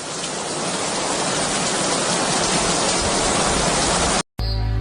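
Steady, heavy rainfall with a dense even hiss that holds without pause before cutting off abruptly near the end.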